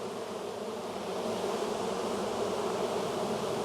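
Honey bees buzzing at an open hive during an April inspection, a dense continuous drone of many insects, close and steady, swelling slightly louder partway through with no talk.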